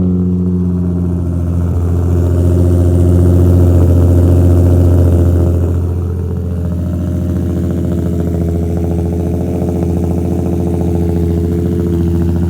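Nissan 350Z engine idling and running steadily up close while the car is moved, a continuous low rumble that swells slightly midway then settles.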